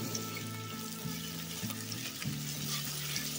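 Onions fry in a hot pan with a steady, broadband sizzle that continues throughout, layered over a low, sustained tonal hum, with no talking.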